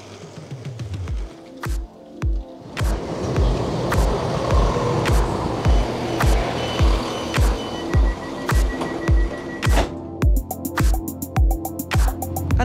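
A train pulling into the high-level platform at Tamworth station, a steady run of loud, rhythmic wheel thumps over rail joints passing close by.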